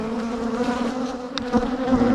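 Honeybees swarm around an opened hive during a colony split, a close, steady buzzing drone with individual bees zipping past near the microphone, no talk over it.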